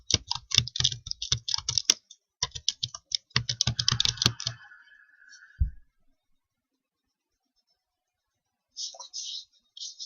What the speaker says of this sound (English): we're going to type in internet browsers